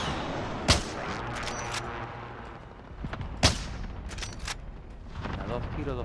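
Gunfire in Call of Duty: Modern Warfare: two sharp, loud shots about three seconds apart ring out over game ambience, and someone speaks in Spanish between them.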